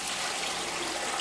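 Water pours steadily into a stock pot as it is filled nearly full for making broth from vegetable scraps, a continuous close splashing rush with no break.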